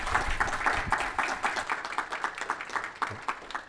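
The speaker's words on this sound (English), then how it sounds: "Let's give our speaker another round of applause." An audience claps for a symposium speaker in a steady round of applause that runs throughout, moderately loud and nearby, with a faint voice underneath.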